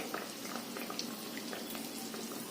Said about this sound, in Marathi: तेलात हे अलगद सोडायचं सुरुवातीला हात लावायचे नाही ते हळूहळू वरती येऊ लागतं